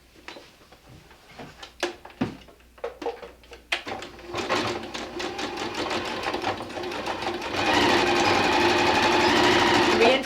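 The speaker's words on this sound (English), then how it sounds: "So let's just sew this real quick together." A sewing machine stitches a fabric jelly roll bag, first in short stop-start bursts, then settling into a loud, steady, continuous whir of rapid stitching up close.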